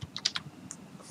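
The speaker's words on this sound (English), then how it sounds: "So now I am typing first page" Typing on a computer keyboard while setting up a Google Sites page: a quick cluster of several crisp key clicks, close and moderately loud, followed by one more isolated tap.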